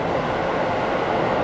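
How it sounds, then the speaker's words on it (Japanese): A train rumbles past nearby in a loud, steady roar that holds evenly throughout, with no voices. "電車がすごい通るな"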